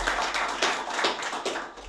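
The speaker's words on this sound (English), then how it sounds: "And maybe a round of applause for Dave as well." Scattered clapping from a summit audience, a few hands beating in loose rhythm, fairly quiet and close, with no voices.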